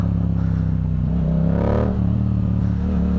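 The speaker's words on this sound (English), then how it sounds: "Bro, freaking burnout." A custom car's engine revs hard during a burnout, a loud, continuous roar with a rising, throaty surge in the middle and clattering mechanical undertones, close by.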